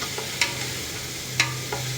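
Onion and whole spices fry in ghee with a constant close sizzle, broken by a few faint stirring clicks.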